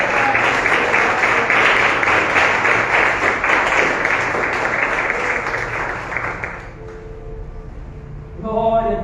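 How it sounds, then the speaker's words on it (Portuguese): A church congregation applauds during a sermon: loud, sustained clapping for about six seconds that fades out, followed by a preacher's voice. "Você pode aplaudir ao Senhor."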